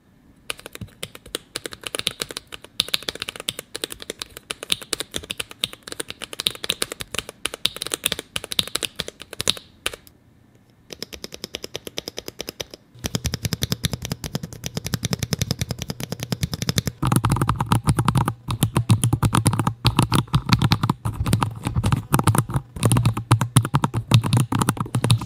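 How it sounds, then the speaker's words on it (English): Rapid, continuous clacking of a mechanical keyboard built into a pumpkin being typed on at a steady pace, with a brief pause partway through, close and crisp. "if you're just here to see what it sounds like to type on this pumpkin at a normal speed"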